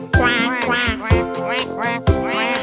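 A voice imitates a duck in a French children's song, repeating nasal, buzzy quacks several times in a row, close and clear.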